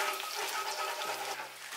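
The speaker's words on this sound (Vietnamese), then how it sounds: "Sau khi cho nước thì các bạn khuấy đều." Oyster sauce thinned with water bubbles and sizzles in a pan as it is stirred, a busy, close hiss with soft watery crackle throughout.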